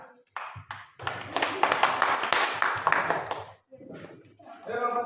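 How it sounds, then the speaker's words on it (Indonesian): Elementary school class clapping hands together in a classroom, a brief scattered start then a few seconds of dense group clapping that fades out, followed by a voice talking. "beri tepuk tangan."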